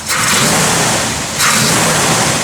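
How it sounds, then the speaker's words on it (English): The engine of a 1965 Chevrolet Malibu SS revs loudly and close, a dense roaring burst that surges again partway through, with no talking. "Give it a little rev, Gary."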